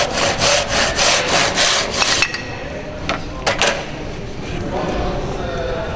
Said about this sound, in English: I'm supporting the edge of the moulding on the bench to finish the cut off.